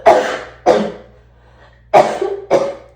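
Four sharp, harsh coughs come in two pairs, loud and close, with a short pause between the pairs.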